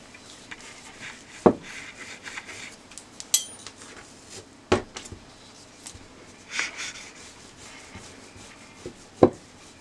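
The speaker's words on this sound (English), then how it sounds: "I'm going to start rolling out my dough." A wooden rolling pin works floured chin chin dough on a kitchen counter, giving soft, uneven rubbing and scraping with a few sharp knocks and clatters scattered through a quiet room.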